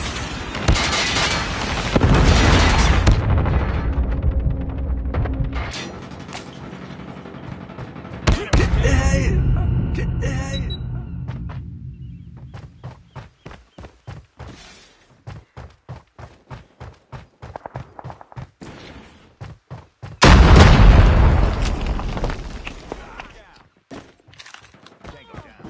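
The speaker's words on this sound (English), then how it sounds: "Predator missile inbound." Predator missile strikes in Call of Duty Mobile, loud explosions at the start and again later, with rapid gunfire bursts and in-game voice callouts between them.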